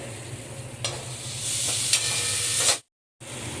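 Onions sautéing with a little salt in a pan give a steady, close, bright sizzle with a couple of stirring clicks, then a brief silent gap before the frying resumes.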